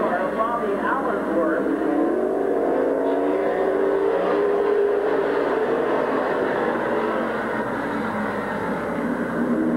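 Race cars circling a speedway oval in 1999, a continuous loud engine drone with rising and falling pitch as cars pass, sustained throughout beneath a track announcer's commentary.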